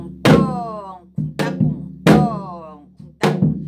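A Korean janggu drum beats out the hwimori rhythm for a shaman ritual, played softly with the second beat left out: four sharp, resonant strikes with deep booming undertones, loud and close, each ringing briefly before the next.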